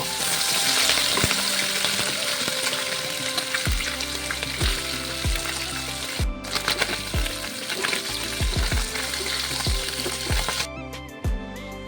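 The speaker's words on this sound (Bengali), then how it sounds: "এবার একটি কড়াইয়ে কিছুটা সর্ষের তেল গরম করে মাছগুলোকে দিয়ে এপিট ওপিট করে ভেজে নেব" Moa fish frying in hot mustard oil in a wok, a loud steady sizzle running throughout with repeated clinks and scrapes of a spatula turning the pieces, no talking.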